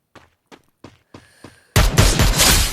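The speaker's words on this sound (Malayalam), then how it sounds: "ഞാൻ പാരഫലിൽ വെച്ച് നോക്കുമ്പോൾ ഹെഡ് ഷോട്ട് നന്നായിട്ട് തന്നെ കയറുന്നുണ്ട്" Video game gunfire from a Parafal rifle during shooting practice: four spaced single shots, then a dense, loud burst of rapid fire.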